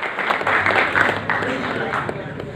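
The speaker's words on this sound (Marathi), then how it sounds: "एकदा जोरदार टाळ्या वाजूयात" Audience clapping at a birthday celebration held during a film trailer launch event, a steady burst of applause from a crowd, moderately loud and continuous throughout.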